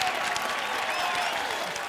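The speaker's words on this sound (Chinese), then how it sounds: "好，掌声欢迎他们。" A comedy club audience applauds guests on a variety show, a steady wash of clapping hands that holds at even strength for two seconds, with crowd murmur mixed in.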